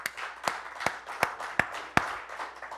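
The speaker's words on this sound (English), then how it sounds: "Give the Lord a hand clap." A church congregation claps hands together in a steady, even rhythm, about six claps in under three seconds, with soft background murmur and a faint, roomy quality.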